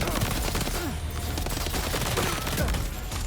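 Sustained rapid gunfire from Death Stranding 2, loud and dense from start to finish like a continuous fusillade, with overlapping bursts and some game sound mixed in.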